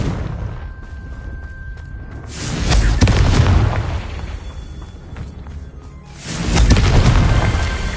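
Confringo fire spell in Hogwarts Legacy, heard as deep, booming explosions that swell and roll twice, loud and close, over a low rumbling background.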